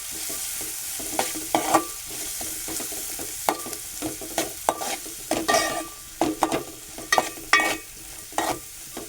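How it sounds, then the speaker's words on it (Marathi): Onion frying in a pan for a capsicum and potato bhaji, with a close sizzle under repeated scraping and stirring strokes that come in irregular bursts, and no one talking. "कांदा टाकत आहे. तो पण आपण परतून घेऊ."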